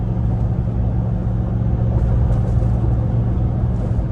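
A supercharged work truck engine cruises along with a steady low drone and a faint high whine riding above it, constant and unbroken throughout, with no talking.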